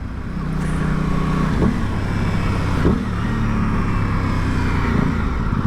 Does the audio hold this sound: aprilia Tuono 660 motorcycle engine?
yes